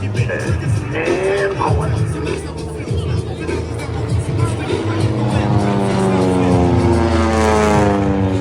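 Team Redline aerobatic propeller aircraft fly at the Greenwood Lake airshow, their engine drone rising and sweeping in pitch as they pass at a distance, while an announcer talks over the crowd.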